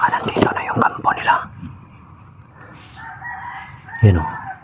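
A rooster crows from some distance after a few moments of nearby talking, with a low background hum throughout.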